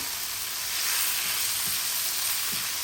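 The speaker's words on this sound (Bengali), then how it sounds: "আমি 1 মিনিটের ভেজে নেব।" Boiled, salted pasta frying in a pan with capsicum gives a continuous close hiss of sizzling oil, swelling slightly midway, with faint low stirring thumps and no voices.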